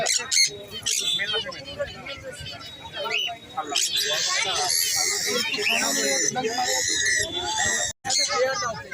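Jandaya conure parakeets at a Sunday animal and bird market in Serampore, squawking in harsh, loud bursts close by, mixed with other caged birds and someone talking over the din.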